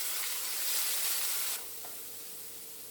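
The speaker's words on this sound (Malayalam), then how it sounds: "രണ്ട് തണ്ട് വേപ്പിലിട്ട് കൊടുക്കുക. ഇതിൻ്റെ പച്ചമണം മാറുന്നവർ നന്നായിട്ടൊന്ന് വഴറ്റി കൊടുക്കാം" Curry leaves sautéing in hot oil for a Kerala prawn pickle. A loud, bright hiss drops sharply partway through to a softer, steady sizzle.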